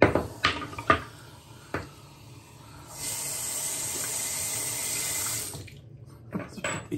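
A tap runs into a sink for a big rinse after a razor shave, with a few knocks and clinks first, then a steady rushing stream close by for about three seconds before it stops and light handling noises follow.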